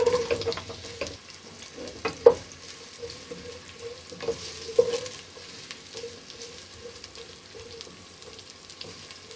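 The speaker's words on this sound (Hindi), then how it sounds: "सबसे पहले हम घी लेंगे, प्याज डालेंगे" Onions fry in ghee with a soft, crackling sizzle close by. Occasional clinks and scrapes of a utensil punctuate it over about nine seconds, without speech.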